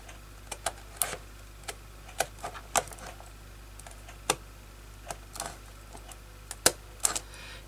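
Scissors snipping along a scored line in card, a series of sharp, irregular clicks and crisp cuts close up in a quiet room, no talk.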